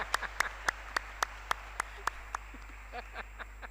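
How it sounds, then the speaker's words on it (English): Claps ring out in a hall as an audience applauds a newly named safeguarding champion. About a dozen distinct, fairly close claps fall in an uneven rhythm before trailing off into a few softer ones. "Please clap for her."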